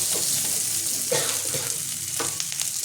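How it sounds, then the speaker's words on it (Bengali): Grated ginger and slit green chillies fry in a hot pan for a few seconds, a steady broad sizzle with occasional stirring scrapes, close and fairly loud, no voices. "গ্রেট করা আদাটা ভাজা ভাজা হলে এভাবে দিয়ে দেবো লঙ্কা, চিরা লঙ্কা।"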